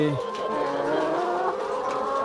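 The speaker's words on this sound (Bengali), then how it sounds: "আমাদের বর্তমানে একুশশো মুরগি আছে" Layer hens on a farm of about two thousand birds. Chickens cluck and murmur as a busy, dense background with a voice-like hum over it, fairly close.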